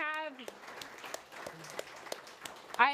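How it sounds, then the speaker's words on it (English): A town hall crowd applauds veterans, sparse claps rising and falling for a few seconds, moderately close, with a voice briefly heard at the start and again at the end. "let's give a round of applause for our veterans"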